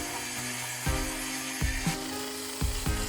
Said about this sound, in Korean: 절반으로 재단을 하여 사용하려고 테이블솔을 사용하여 재단하였습니다